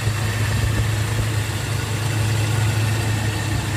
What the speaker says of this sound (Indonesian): Untuk suara mesinnya seperti ini.